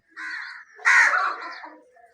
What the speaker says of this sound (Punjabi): ਕਾਂ ਵੀ ਸੁਬਾਹ ਕਾਂ ਕਰਦੇ ਨੇ